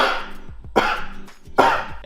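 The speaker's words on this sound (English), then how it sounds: "I'm supposed to cough deeply about 4 times, so I'm gonna try to cough." Three deep, forceful coughs come in a slow, evenly spaced series, loud and close, each with a rough, breathy burst, done on purpose for a saliva test.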